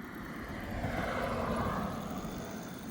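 A modified 72-volt Mukkpet Ninja electric bike rides off uphill, its steady whining drive and wind rush swelling slightly midway, then holding at a constant level with no talking.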